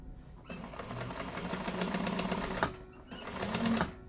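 A sewing machine top-stitches a 1/8-inch seam allowance through the side panel of a tote bag. It makes a rapid, steady whirring stitch that runs for about two seconds, stops briefly, then starts again for a shorter burst.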